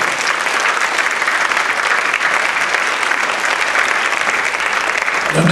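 A congregation at a Catholic Mass in London claps in praise, loud and sustained, a continuous wash of many hands lasting over five seconds.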